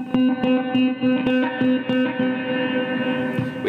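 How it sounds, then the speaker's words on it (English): Plucked guitar notes through a Behringer X V-Amp delay with reverb repeat and echo into a washy, reverberant tail, with each attack trailing off in long delayed repeats. "And you can also add reverb on top of delay."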